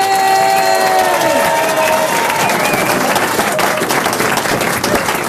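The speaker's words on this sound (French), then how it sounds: "l'estime du public qui vous a, voyez, vraiment fortement applaudi" A studio audience at a French radio show breaks into loud, sustained applause, a dense wash of clapping that follows a fading musical jingle and carries on to the end.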